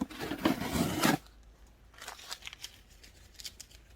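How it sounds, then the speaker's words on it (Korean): A shipping package of succulent plants is cut open, with a dense burst of scissor snips and crinkling cardboard up close, followed by quieter rustling and handling sounds. "여러분 언박싱 개봉해 보겠습니다."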